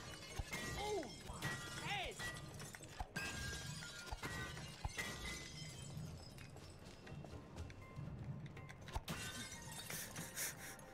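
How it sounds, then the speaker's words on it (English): Glass shattering repeatedly in the co-op video game It Takes Two, crashing and tinkling loudly throughout amid game sounds and music while people talk over it. "I think all the glass is broken."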